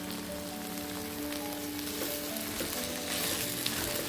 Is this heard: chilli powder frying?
yes